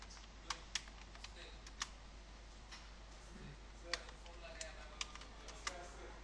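Soft, scattered keystrokes on a computer keyboard as a search for business cards is typed on Fiverr, sparse clicks at an uneven pace over a low steady hum, with a voice talking quietly.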